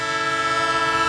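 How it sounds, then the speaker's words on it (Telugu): A loud, sustained train horn blares at close range, steady and continuous, in a comedy skit with no talk over it. "ఆ ట్రైన్ చూడు, మృత్యులా మన వెంటే వస్తుంది."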